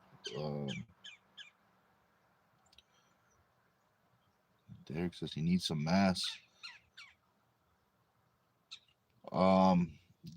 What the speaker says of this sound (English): what bird is making that noise?